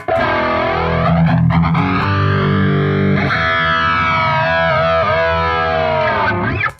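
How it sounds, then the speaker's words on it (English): Distorted electric guitar run through a BOSS ES-8 pedal switcher with compression, distortion and a sweeping flanger effect, bright sustained chords whooshing up and down throughout, loud and continuous with no voices. "flanger."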